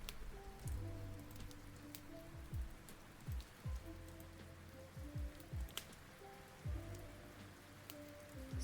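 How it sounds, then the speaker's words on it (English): Rain ambience plays steadily, with dense pattering drops and intermittent drip-like plinks, soft and continuous with no voices. "you should be able to hear rain, thunder, and fireplace as well as ocean waves"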